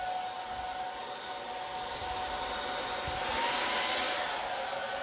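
A blower runs steadily on its cool setting, drying poured acrylic paint on a canvas with a constant close airy hiss and no talk.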